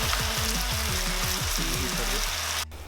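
Chicken fries in oil in a pan, giving a steady, close sizzling hiss throughout, with low tonal sounds murmuring underneath.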